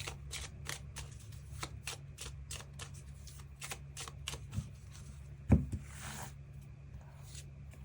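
Tarot cards shuffled in quick, rapid riffling bursts close up, followed by a few soft handling sounds as cards are drawn, with no talking.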